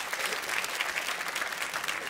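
A comedy club audience breaks into a brief burst of applause during a stand-up set, dense clapping held steady throughout without a voice on top.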